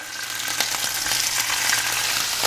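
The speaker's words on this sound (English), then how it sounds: "Again, you hear that nice sizzle?" Steady, crackling sizzle of food frying in a pan, dense and close, with occasional sharper pops throughout and no voices.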